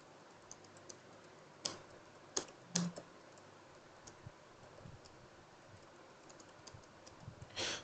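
Scattered keystrokes on a computer keyboard as a prompt is entered into an AI app-building platform, sparse irregular clicks with a few sharper taps, quiet and close over faint background hiss, no speech.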